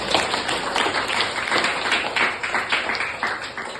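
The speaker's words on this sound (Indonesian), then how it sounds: "beri aplaus buat Nak Aryani" Applause from students in a micro-teaching classroom session for a student who answered, a short burst of steady, fairly loud clapping from a small group.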